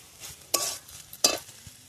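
Eggs go into a pan of cooked spring onions, heard as two short bursts of sizzling and stirring close by against quiet surroundings.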